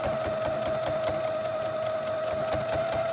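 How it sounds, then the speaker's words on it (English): A sewing machine top stitching a simple zippered pouch, running as a steady, even mechanical whir with a constant hum and fast regular needle ticks, close and alone. "Your top stitching, just go slow and easy, okay?"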